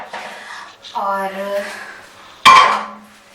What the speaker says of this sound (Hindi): इसको तो एक साइड पे कर देते हैं बर्तनों को जिसमें पानी था